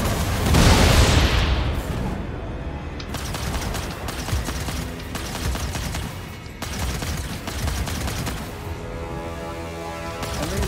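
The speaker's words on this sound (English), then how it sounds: "Fire missile. Missile launch." Missile launch in a space combat video game, a loud rushing blast at the start giving way to sustained roaring engine and weapon noise with sharp bursts throughout.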